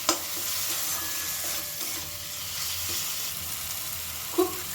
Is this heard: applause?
no